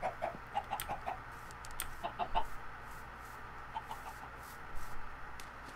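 Chickens clucking in a video game: short soft clucks in irregular bursts over a quiet steady background.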